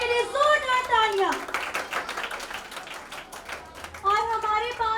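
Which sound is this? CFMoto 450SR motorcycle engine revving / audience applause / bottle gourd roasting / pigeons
audience applause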